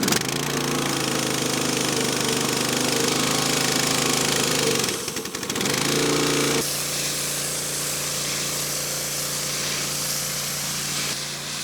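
A Hyundai HY3000P2 2800psi petrol pressure washer runs with a loud, continuous engine drone and spray hiss, briefly dipping midway before settling into a steady, slightly lower running tone.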